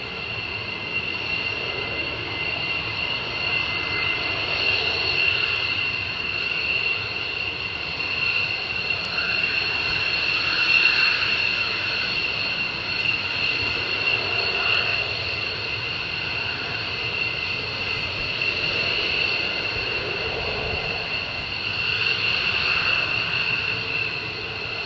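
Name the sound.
jet aircraft flying overhead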